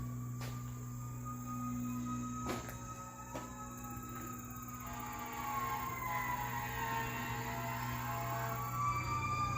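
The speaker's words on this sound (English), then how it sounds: "Shocking amount of sirens around here." Faint sirens wail and sweep in the distance over a steady hum and insect-like buzzing, rising and falling slowly, heard at an abandoned Cold War nuclear control camp.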